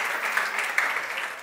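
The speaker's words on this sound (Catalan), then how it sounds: "Un aplaudiment per aquesta trumfa." Steady applause from a group at a gastronomy event, a dense even patter of clapping held at one level throughout, with no voices over it.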